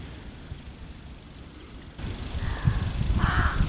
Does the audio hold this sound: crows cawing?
yes